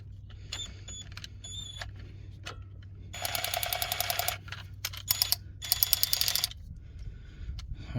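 A 16.8-volt Alloyman cordless ratchet wrench ratchets in two loud, close bursts of fast clicking, each lasting about a second, with scattered clicks and faint mechanical creaks before and after.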